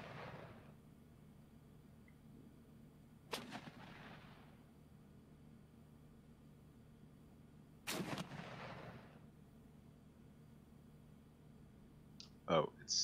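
Tank cannon fire in the video game Armoured Commander II: two sharp, booming shell blasts several seconds apart, each with a short rumbling tail, over a quiet low hum, and a brief clatter near the end.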